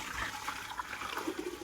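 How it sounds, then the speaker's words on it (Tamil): Water pours into a pressure cooker in a home kitchen, a short soft gurgling stream heard fairly faintly with no talk. "இந்த குக்கர்ல வந்து தண்ணி ஊத்திக்கலாம்."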